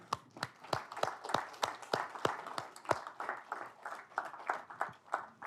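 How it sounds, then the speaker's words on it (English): Students in a lecture hall clapping for classmates new to programming, a sparse scattering of distinct handclaps from a small number of people, uneven in rhythm and moderately close, thinning slightly toward the end. "Now let's clap for these folks."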